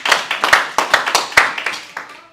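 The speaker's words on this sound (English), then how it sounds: "Let's give her a hand clap." Audience clapping at a talk on living debt free: a short burst of about a dozen sharp, close hand claps in a loose, uneven rhythm, loud and distinct, fading at the end.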